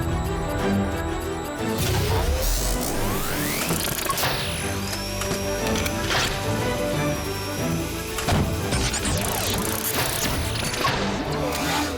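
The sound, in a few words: cartoon robot R7 transforming into the Super Speedo car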